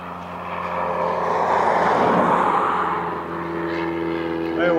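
A plane passing over Portland airport at night gives a steady, broad engine roar that swells toward the middle and stays loud throughout, with a faint voice underneath.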